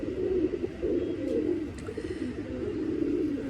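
A pigeon coos in low, rolling, continuous murmurs, fairly close and steady for a few seconds with no talk.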